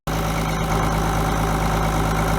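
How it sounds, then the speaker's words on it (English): A farm tractor engine runs at a steady idle during barley planting, close and loud, giving a constant low rumble with a fixed droning hum for the whole stretch and no talk. "tractor is going."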